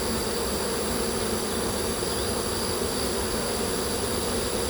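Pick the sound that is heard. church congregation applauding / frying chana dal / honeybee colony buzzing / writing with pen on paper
honeybee colony buzzing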